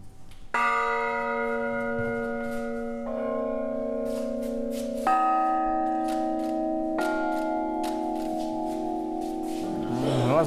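Newly cast church bells ring with long, resonant tones, several strikes changing pitch and overlapping, each ringing out before the next.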